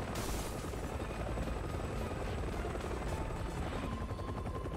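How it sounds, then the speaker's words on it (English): Helicopter from the video game Resident Evil 6, a steady, loud rotor thrum and engine whine filling the whole stretch with dense broadband noise, no voices over it. "Shooting the helicopter in front of us."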